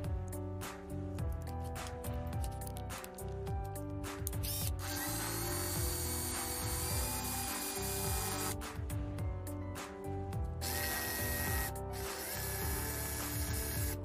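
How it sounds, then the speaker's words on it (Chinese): Someone sands down the protruding edge of a magnetic levitation spinning top, making a continuous mechanical whirring grind with a tonal buzz. It is close but fairly quiet and carries on steadily with no talking. "我看看能否把它打磨掉"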